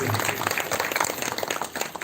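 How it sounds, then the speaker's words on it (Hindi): An audience at a Shrimad Bhagavat recitation claps dense, lively applause throughout, many hands at once, moderately loud with a faint voice underneath. "ताली बजा करके उनका धन्यवाद कर सकते हैं"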